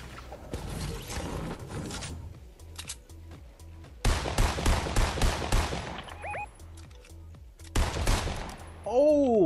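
Fortnite Battle Royale gunfire in bursts: rapid rattling volleys of automatic shots, a pause, another dense burst, then a later volley, with weapon mechanism clicks and in-game tones between.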